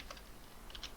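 Code is typed on a computer keyboard, a few quick soft key clicks close by in a brief irregular burst, with no talking.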